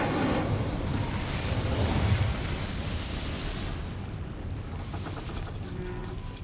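A loud rushing burst of flame from a Hogwarts Legacy fire spell roars at first, then slowly dies down into a fainter crackling hiss.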